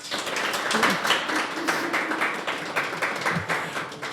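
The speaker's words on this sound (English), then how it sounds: "can we have a round of applause for our guests?" Audience applause in a room for podcast guests after a talk, a continuous moderate wash of many hands clapping at mid distance, steady throughout without voices on top.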